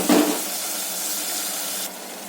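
Ground tomato masala is poured into a hot pan with a splash, then sizzles steadily as it sautés, cutting off abruptly near the end.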